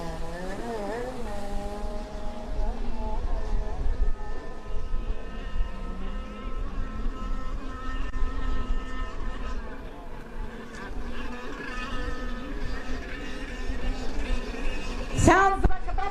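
A racing stock-class jet ski's engine buzzes at high pitch from a distance, rising and falling as it moves, beneath an announcer's continuous speech over a loudspeaker at a race.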